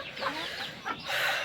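Chickens on a rooftop farm cluck in short, close bursts, a few quick calls rising and falling against quiet background, with no talking.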